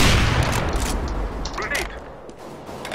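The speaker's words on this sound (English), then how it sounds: "Grenade." A grenade goes off in a video game: a loud, booming blast that decays over a few seconds amid gunfire-like crackle, with voices talking over the action.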